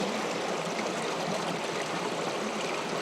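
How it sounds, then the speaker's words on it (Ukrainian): Spring water flows and babbles continuously at a steady, even level, close by, with no voices or other sounds. "А так то всередині джерело джерельне."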